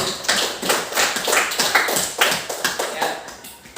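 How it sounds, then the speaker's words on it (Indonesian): A classroom audience gives a brief round of clapping for a student, with scattered, uneven hand claps over a few seconds and no speech. "tepuk tangan untuk Alfandi."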